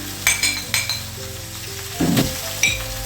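Onion added to a hot pan for Moroccan-style chicken legs sizzles up close, with a louder sputtering burst midway and scattered clinks of a utensil against the pan.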